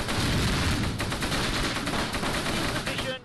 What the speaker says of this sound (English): Automatic fire from, the south, from the south.